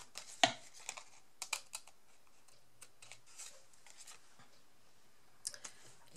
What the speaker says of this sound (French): je vais découper ce qui dépasse au niveau de la dentelle sur les côtés